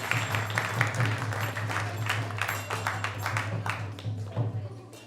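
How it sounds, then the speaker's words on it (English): Audience applause at a temple festival gathering, a steady patter of many hands clapping at moderate volume over a low hum, lasting several seconds with no speech. "let's give a big round of applause to everyone who has joined us today."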